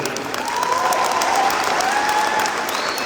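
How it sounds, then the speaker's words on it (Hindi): A crowd applauds at an event where a speech is being given, a dense, continuous wash of clapping held steady throughout, fairly loud and filling the space, with faint voices beneath. "यहाँ खड़े होकर लोग ताली बजा रहे हैं"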